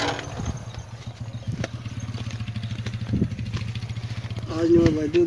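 John Deere 5050 D diesel tractor engine chugging with a steady low-pitched rhythmic thump, loud and close, on a village farm with some voices and clatter around it.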